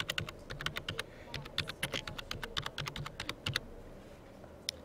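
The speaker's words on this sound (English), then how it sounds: "So let's type that in and see what happens." Quick bursts of keystrokes on a computer keyboard type a book series name into a library catalog search, close and soft, with irregular clusters of clicks and brief pauses, ending in a single isolated tap.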